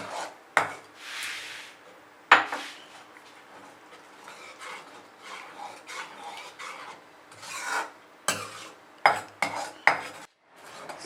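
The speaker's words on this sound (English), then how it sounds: "So here we've given a good nice stir to it. Adding a little more milk." A spoon scrapes and rubs around a pan as white sauce made with milk is stirred, giving irregular rasping strokes with a few sharper metallic knocks, close and fairly quiet.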